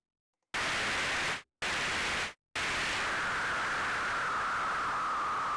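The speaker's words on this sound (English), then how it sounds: "You also could maybe use pink noise, white noise." Synthesizer white noise hisses out loud and broadband, cut into two short bursts with brief gaps before a steady sustained wash that narrows into a brighter tone.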